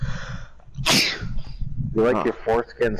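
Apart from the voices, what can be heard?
sneeze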